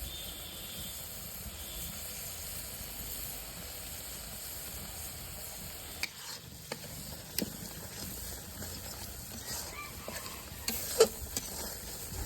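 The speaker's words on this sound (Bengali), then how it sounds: "মশলাটা খুব ভালোভাবে কষে নিচ্ছি" Masala fries in oil in a pot over an outdoor village picnic fire, a faint low sizzle with scattered scraping knocks of a spoon stirring it in the second half.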